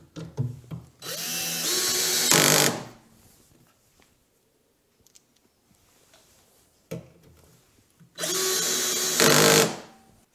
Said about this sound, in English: my ratchet on my screwdriver is putting enough tension on there